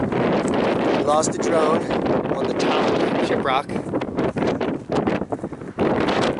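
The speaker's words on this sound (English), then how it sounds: "It still is windy." Strong wind roars across the summit of Shiprock, the volcanic neck in New Mexico, buffeting the microphone with steady broadband noise while a person talks over it throughout.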